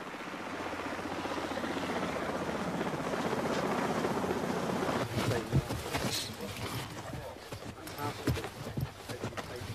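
Helicopter rotor noise from a Royal Marines training flight, a steady loud drone for the first half, then broken by choppy bursts, gusts and clatter as it continues under activity.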